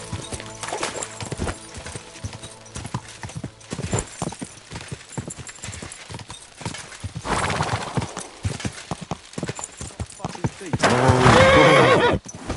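Horse hooves clip-clop at a gallop in Kingdom Come: Deliverance, with repeated whinnies and neighs rising loudly near the end; a voice speaks intermittently over the game sounds.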